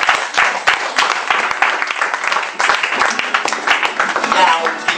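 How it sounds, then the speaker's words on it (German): Applause from an audience welcoming a band member at a pub-style comedy music show, lively and close with sharp individual claps, voices and cheering mixed in throughout. "da begrüßt ihn mit einem wundervollen monetären Applaus, Richard Kies."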